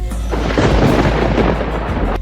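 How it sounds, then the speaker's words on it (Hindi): Unseasonal thunder rumbling loud and near, a deep rolling boom sustained for about two seconds over a wash of rain. "ये बिना मौसम की गरजती हुई बारिश"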